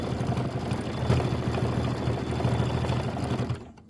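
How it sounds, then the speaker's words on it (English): An embroidery machine stitches a leaf design on a pillow, a loud, steady mechanical whir with rapid needle chatter that runs continuously, then stops abruptly near the end. "I think I'm going to just let it stitch that last leaf"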